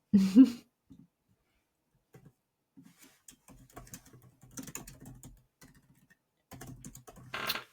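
A few scattered keystrokes tap quietly on a computer keyboard during an online webinar, sparse and irregular, with a short throat-clearing burst at the start and another near the end.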